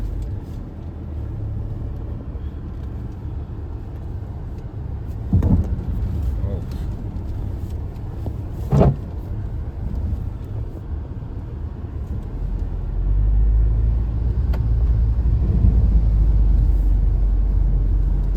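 A Tata Safari's engine drones and rumbles while the SUV is pushed along an off-road trail. Heard from inside the cabin, a few bumps punctuate it and the rumble swells near the end, with people talking over it.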